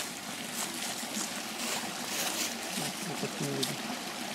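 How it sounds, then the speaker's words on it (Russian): A small, shallow forest stream with low water trickling and gurgling steadily at close range, a continuous watery wash with no clear speech. "Здесь вот маленькая речушка протекает."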